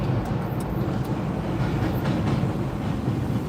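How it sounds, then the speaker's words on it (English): A train rumbles across the Manhattan Bridge overhead in New York, a steady, continuous low roar with faint clatter from the structure, loud and sustained throughout with no talking. "that's the train going over the Manhattan Bridge above us"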